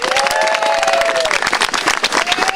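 A crowd applauds a hotel negotiating team for a new Hilton in Hoboken, brisk clapping mixed with some whistles or cheers, loud and continuous throughout the short burst.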